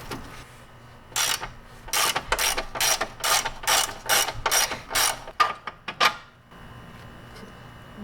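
A ratchet undoing the forward control arm bolt on an MK4 Golf clicks in a quick run of about a dozen sharp, close, evenly spaced strokes, then stops.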